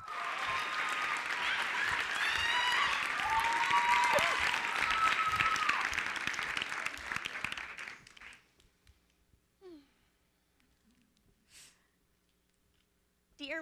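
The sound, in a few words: audience applause for a conference speaker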